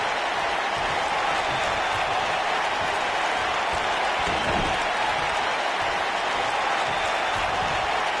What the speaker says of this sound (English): Wow, the crowd's on the edge of their seats.